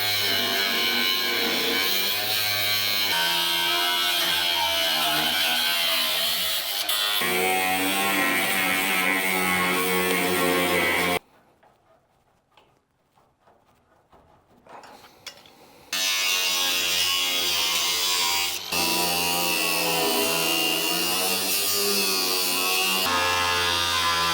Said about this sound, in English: So I'm going to go ahead and get to cutting this piece out now